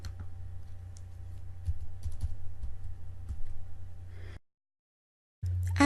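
Keys clatter on a computer keyboard as a zip code is typed, quiet steady tapping over a low hum, stopping abruptly near the end before the hum returns.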